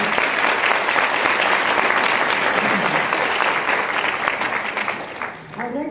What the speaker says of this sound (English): Give a round of applause to Ms.